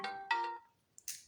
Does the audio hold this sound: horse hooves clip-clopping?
no